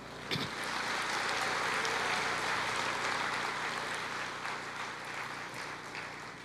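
Church congregation applauding together during a worship service, a steady, dense wash of clapping that holds loud for several seconds and eases slightly toward the end.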